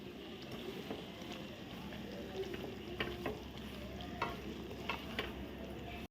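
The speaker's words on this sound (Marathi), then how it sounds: "या तुपामध्ये आता हे सगळं पीठ मी घालते. आता हे आपण भाजून घेऊया चांगलं." Flour sizzles in ghee as it is stirred and roasted for methi ladoo, a steady low frying hiss with soft scraping taps of the spoon throughout and no voice over it.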